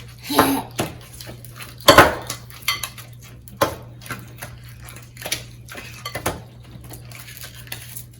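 Spoon clinking and scraping in a bowl as sweet potato is mashed with butter and sugar, a few sharp knocks followed by softer irregular taps, close and with little talk.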